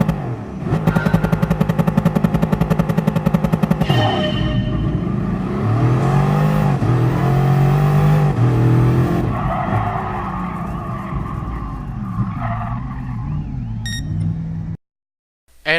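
A Bugatti's engine in Gran Turismo Sport roars loudly and close, holding a buzzing high-rev drone and then shifting and rising in pitch before it cuts out abruptly near the end.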